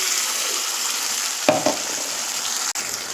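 Onions and ground masala paste for egg masala fry in a pan with a constant close sizzle, broken by a couple of quick stirring scrapes.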